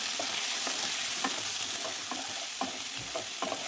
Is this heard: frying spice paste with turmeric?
yes